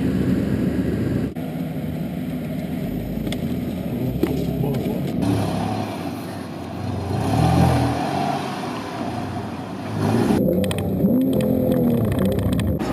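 A Porsche sports car with a dual-clutch automatic gearbox drives along, its engine a steady mid-pitched drone that rises briefly as it accelerates, heard from inside the cabin under ongoing talk.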